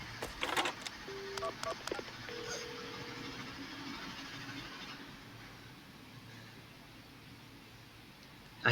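Telephone dialing in the video game Paranormasight: a few short electronic tones and clicks near the start over a quiet background hum, then a faint sustained tone fading into low ambience.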